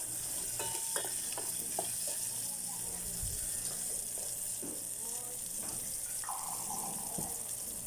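Spring onion sautéing in a pan for a Filipino vegetable stir-fry: a steady sizzle with scattered clinks and scrapes of stirring, close and moderately loud, without speech.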